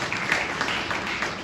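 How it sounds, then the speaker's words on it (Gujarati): An audience claps together at a Hanuman Jayanti religious gathering, a dense, continuous wash of applause with no break across the short stretch. "જોરદાર તાળીઓથી વધાવશો."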